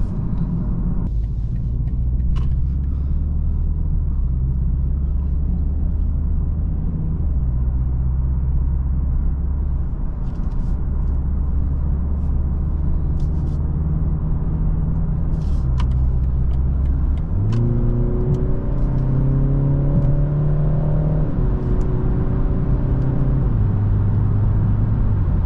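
A 2024 BMW 330i xDrive cruises at highway speed, giving a steady low road and engine rumble with tire and wind noise throughout. Midway a rising engine tone swells briefly, then settles back into the constant drone. No one speaks.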